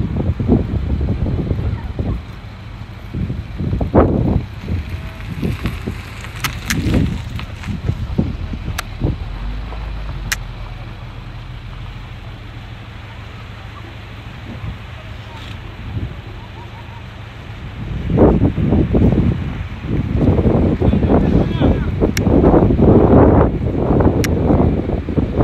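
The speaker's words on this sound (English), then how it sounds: "it is really windy." Strong wind buffets the microphone at the Snow Summit and Bear Mountain ski resorts, loud gusty roaring and rumbling that eases midway then surges again, with occasional handling knocks.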